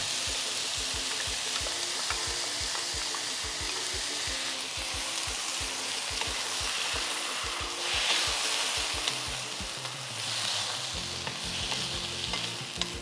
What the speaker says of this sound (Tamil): இப்போ இந்த ஸ்டேஜில் நம்ம அரைச்சி வச்சுருக்கிற பேஸ்ட்டை இதில் ஆட் பண்ணிடுவோம்.